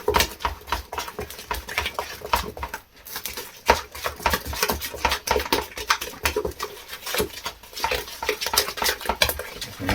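A hand whisk scrapes and stirs a chocolate mixture in a bowl, giving steady rapid scraping and clinking strokes against the sides, close and continuous with brief pauses.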